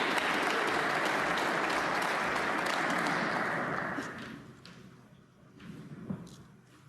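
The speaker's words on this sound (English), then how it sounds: "That's what they're applauding from Perry." Snooker crowd applauding Perry's century break at the 2023 Northern Ireland Open: loud, sustained clapping for about four seconds, then fading quickly into scattered claps and quiet murmur.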